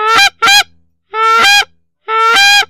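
Geese honk loudly and close by during a waterfowl hunt: a quick double honk followed by two longer, drawn-out calls, each separated by short silences, with no other sound.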